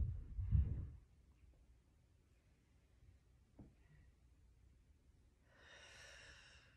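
A person lying on a floor mat exhales slowly during a core exercise while holding a weight above the chest. The breath comes as one soft, airy rush near the end, after a brief low thump at the start.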